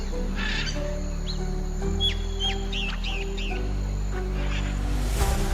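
A forest owl in Amazon rainforest, with short whistled and chirping bird calls rising over a steady low hum of jungle ambience, the calls scattered and moderately near.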